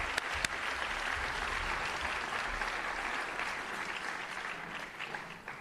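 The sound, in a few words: audience applause at a scholarship evening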